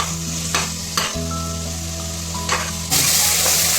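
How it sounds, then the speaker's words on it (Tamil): Tomatoes sautéing in a pan for veg biryani, close by: a steady frying sizzle under a low hum, with a few spoon knocks and scrapes and a louder burst of hiss near the end, no talk. "தக்காளி நல்லா மேஷ் ஆகிற வரைக்கும் வதக்கணும்."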